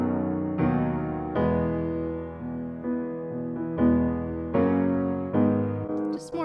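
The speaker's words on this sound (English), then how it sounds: "So I added a different piano sound and I just copy and pasted the MIDI." Two piano sounds layered on the same MIDI part play a sustained chord progression, the chords changing every second or so in a full, thick blend with no talking.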